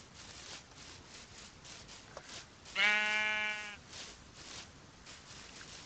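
A sheep in the Minecraft video game gives one clear, loud bleat lasting about a second, rising above quiet background game sounds.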